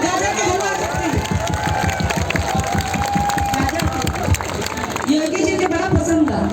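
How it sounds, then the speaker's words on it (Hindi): Crowd at a political rally in Reoti, Ballia, Uttar Pradesh, clapping in a steady rhythmic patter of many hands alongside cheering, with a voice talking over the din throughout. "आगे ताली बजाओ लोग"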